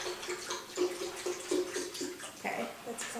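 Milk, dairy or nut, poured from a container into a blender jar for a single-serving green smoothie, a steady close liquid splash with gurgling pulses through the pour.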